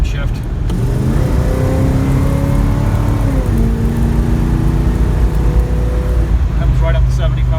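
Car accelerating hard after a quick downshift: the engine note climbs steadily through a gear, dips at a shift, then rises again, loud and close throughout.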